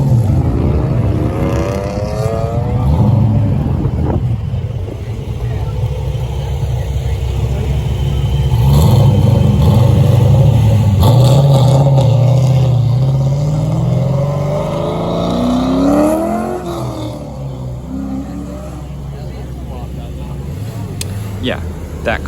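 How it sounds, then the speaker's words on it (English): An LS V8-swapped Sil 80 (Silvia/240SX with S13 front end) pulls away at a cars and coffee meet, its engine revving loudly and rising in pitch over several seconds, with people talking nearby. "listen to this LS when it pulls away"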